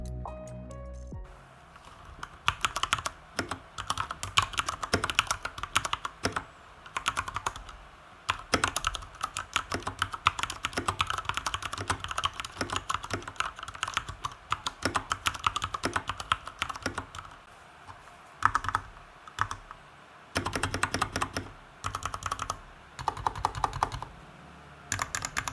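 Rapid bursts of typing on a Corsair K65 RGB Mini mechanical keyboard, close and crisp, with clacking keystroke runs separated by short pauses throughout.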